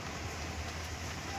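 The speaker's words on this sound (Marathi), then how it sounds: "चांगला जोरात चालू झालाय बघा मित्रांनो पाऊस" Heavy rain pours down steadily during a lorry-loading stop, a dense, even hiss of drops that stays constant and fairly close throughout, with no talk over it.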